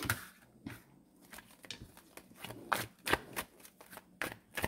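Tarot cards being shuffled close by, soft riffling and slapping bursts repeating irregularly, quiet and without speech.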